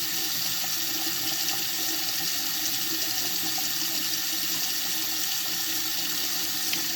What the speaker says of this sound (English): Add in more water and see if it keeps draining.